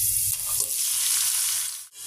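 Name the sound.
chicken meat frying with spices and onions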